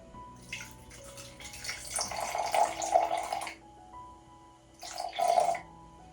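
Filtered tap water poured from a pitcher into a bowl for sourdough, two close splashy streams separated by a short pause.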